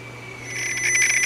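Control signal noise from a PianoDisc player piano system on a Yamaha C3, leaking out of an iPad speaker: a steady high electronic whine and hum that brightens and swells into a buzzy warbling tone over about a second.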